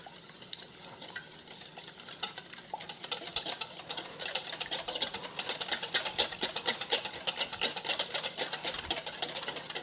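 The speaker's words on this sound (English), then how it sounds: "We're going to whisk that up." Milk being whisked into fritter batter for zucchini blossom fritters, a steady brisk rattling of whisk against bowl that grows busier and louder midway, close up and alone.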